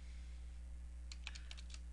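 Short burst of keystrokes on a computer keyboard during a Windows Server 2008 network setup, several quick clicks in an irregular rhythm over a steady hum, close and moderately quiet.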